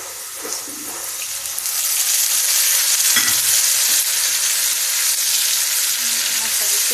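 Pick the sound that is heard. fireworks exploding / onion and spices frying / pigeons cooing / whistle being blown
onion and spices frying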